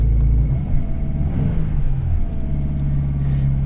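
A car engine runs steadily at idle with a low, continuous rumble and a slight rise in the middle, close by and with no talking.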